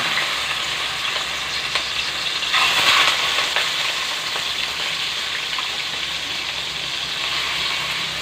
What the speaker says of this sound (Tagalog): Pag mainit yung mantika, ilagay na natin yung chicken